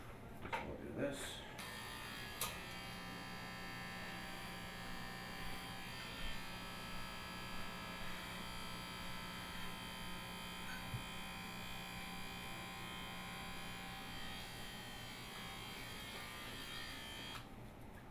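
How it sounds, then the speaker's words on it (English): Electric clippers shave scalp hair down before a hair transplant surgery, giving a steady, close, faint buzzing hum that runs almost continuously, with speech heard at points. "So, I'm purposely shaving this down here."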